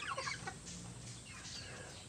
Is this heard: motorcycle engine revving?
no